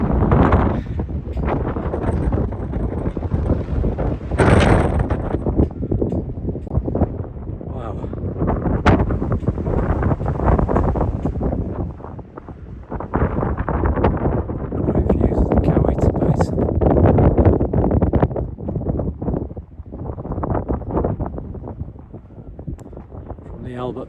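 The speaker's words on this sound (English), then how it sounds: "Wow, it's incredibly windy." Strong gusting wind buffets the microphone atop a mountain fire tower on the Appalachian Trail, loud roaring bursts rising and falling, with a person talking intermittently.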